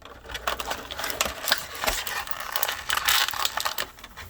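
Rapid scratching and crinkling of plastic packaging as a NECA Terminator 2 action figure two-pack is unboxed, dense irregular rustles and scrapes up close with no talk.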